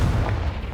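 A Confringo spell blast in Hogwarts Legacy, a single short, loud, low rumbling boom that fills the moment.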